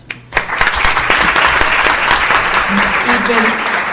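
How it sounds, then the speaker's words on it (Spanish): Loud, sustained audience applause fills a hall at a fibromyalgia day event, building quickly and continuing evenly throughout. "Un fuerte aplauso"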